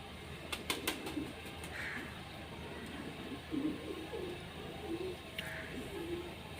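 Pigeons cooing softly nearby, low rolling coos repeating every second or so, with a few sharp clicks and faint background noise.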